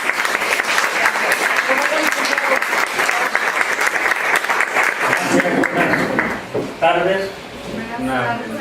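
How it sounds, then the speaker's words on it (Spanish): An audience at a press conference breaks into sustained applause, loud and dense for several seconds, with voices rising over the clapping near the end. "démonos un aplauso"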